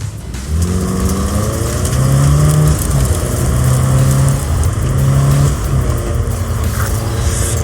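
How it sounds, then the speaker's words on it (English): In-game car engine from Cyberpunk 2077 firing up and driving off, a steady loud motor drone with rising and falling revs throughout, heard alone without talk. "So as soon as you find Saul, I'll fire up the engine and we'll speed out of there."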